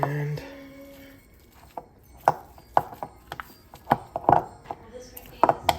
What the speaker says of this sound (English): just mix and mix